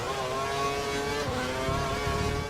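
A Formula 1 car engine in the video game F1 2012 screams at high, steady revs at the British Grand Prix, loud and continuous with a dense, harmonic whine throughout.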